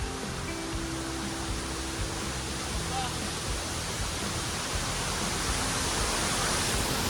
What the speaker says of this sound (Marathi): वॉटरफॉलचा आवाज येतोय